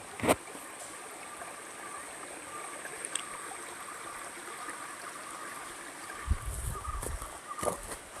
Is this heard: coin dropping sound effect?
no